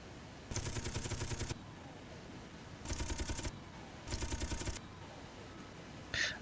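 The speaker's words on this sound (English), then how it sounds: "test number 2, machine gun fires" Automatic weapon fire in the video game DOOM TURTAL: three sustained bursts of rapid gunfire, each lasting about a second, separated by short pauses, loud and close, with a faint extra sound at the very end.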